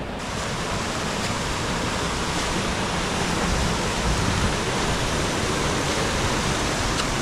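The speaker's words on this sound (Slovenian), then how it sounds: "Kakšen prekrasen slap in pa super tolmun." A waterfall in the Trebuša gorge in Slovenia pours into a pool, giving a loud, continuous broadband rush of falling water that stays steady throughout with no voices.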